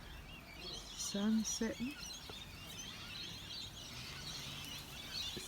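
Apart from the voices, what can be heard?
birds chirping in a big tree at sunset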